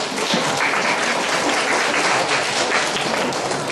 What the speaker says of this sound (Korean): 김현주 학생에게 다시 한번 큰 박수 부탁드립니다